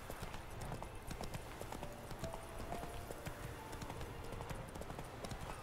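Roach the horse's hooves clip-clop in a steady, rhythmic trot in The Witcher 3 video game. The hoofbeats are quiet and continuous over a soft background bed.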